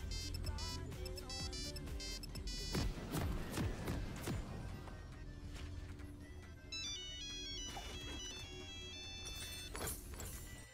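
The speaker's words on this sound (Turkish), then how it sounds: "Benim telefon çalıyor, bir dakika." Mobile phone ringtone playing a bright melodic tune over other electronic tones and clatter, fairly faint and continuous, with no talk.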